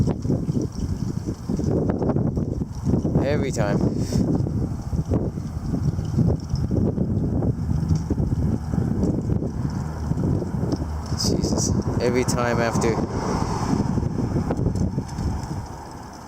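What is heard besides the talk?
strong wind gusts during a cold front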